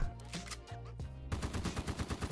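Rapid automatic gunfire from the World War II mobile shooter game Polyfield, a burst of loud repeated shots at close range, with a brief pause before firing resumes.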